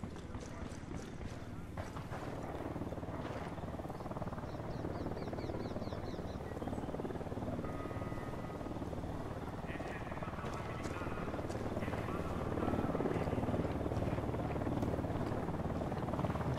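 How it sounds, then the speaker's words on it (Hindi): A helicopter hovers in a PS4 video game, a faint, steady rotor drone that lingers in the background throughout. Other game sounds and someone talking are heard over it. "जाने का कुछ नाम नहीं ले रहा ये हेलीकॉप्टर।"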